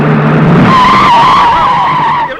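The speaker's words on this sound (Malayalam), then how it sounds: "വണ്ടി ഇങ്ങനെ വലിയ ശബ്ദത്തോടെ ബ്രേക്ക് ഇടുന്നത് കാണാൻ നല്ല ശേല" A vehicle brakes hard with a loud, sustained tyre skid that squeals steadily for about two seconds, close and dominating, before cutting off abruptly.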